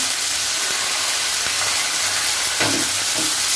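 Spices sizzle loudly in a pan as water is poured in, a steady hiss with a few sharper bursts and faint low clatters underneath.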